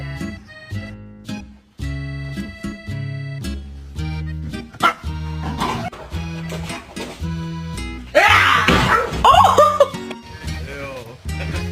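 A dog barking and yelping repeatedly at close range, loud sharp barks in an irregular burst-like rhythm, with people talking and reacting over it.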